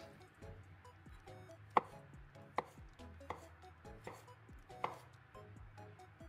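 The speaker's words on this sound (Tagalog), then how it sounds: "Slice lang natin siya ng maninipis" A knife slices a banana thinly on a board, giving a run of sharp, close taps at an uneven pace with quiet gaps between them.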